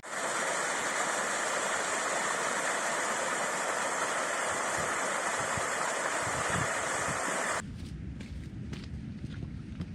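A stream near Glenfinnan rushes beneath a footbridge in a loud, steady wash of water that drops off sharply near the end, leaving quieter flow and a few faint knocks.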